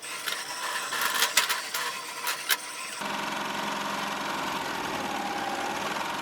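A Melco Summit embroidery machine running a trace on a hooped sweatshirt, first irregular mechanical clicks and knocks, then a steady whirring motor hum, close and without talk.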